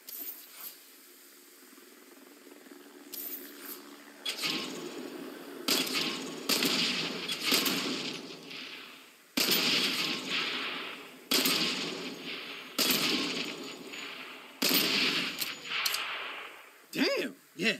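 Gunshots in the Saints Row reboot game, loud sharp bursts fired in clusters and rapid volleys over several seconds, with a voice talking between them.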